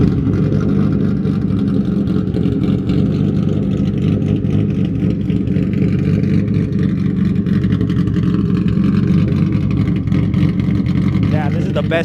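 A Nissan 370Z with a VQ engine and an aggressive camshaft idles close by, holding a steady, loud, lopey chop throughout with no break.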